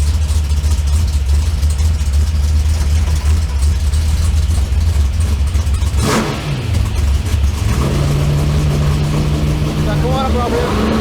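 Engine running on a 4150 E85 carburetor at a fairly high idle, a loud steady rumble whose pitch drops and shifts around the middle before settling into a steady tone again.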